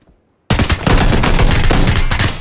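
Gunfire in the battle royale shooter PUBG, a sudden loud burst of rapid automatic shots after a brief silence, continuing as dense close-range firing with no talk.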